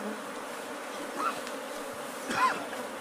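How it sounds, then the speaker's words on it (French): A swarm of bees buzzes inside a hollow baobab tree in the African steppe, a steady close hum with a few louder passes as individual insects fly near. "ces villageois ont repéré un essaim d'abeilles à l'intérieur de ce baobab."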